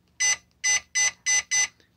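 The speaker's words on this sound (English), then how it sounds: "when I hit the volume button, the clock beeps" A Deeyaple LED digital wall clock gives five short, loud electronic beeps in steady succession, close by with no talking.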